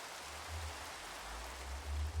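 Rain falls in the video game Minecraft, a soft steady wash of noise with a low rumble underneath, fairly quiet and continuous.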